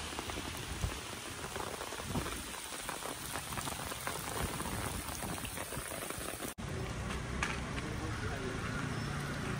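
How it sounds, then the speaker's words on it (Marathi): Heavy rain pours down steadily in a national park forest, heard from shelter under a large tree, with a dense, even roar of drops hitting leaves and ground close by and no let-up throughout. "इथे खूप जोराचा पाऊस आलाय म्हणून आम्ही या विशाल अशा झाडाखाली थांबलोय."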